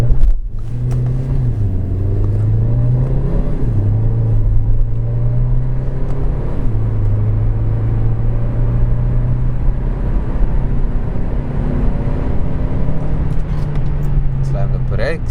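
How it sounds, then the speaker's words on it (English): A 2024 Kia Seltos engine roaring loudly under hard acceleration from a launch, its pitch climbing, dropping at gear shifts, then climbing again, close and continuous throughout. "See how quick this vehicle launches."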